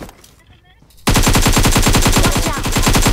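Machine gun fire in a battle royale video game tournament match. After a quiet second, a loud, rapid, unbroken stream of close automatic shots runs to the end.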